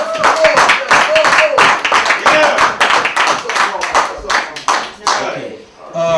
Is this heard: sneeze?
no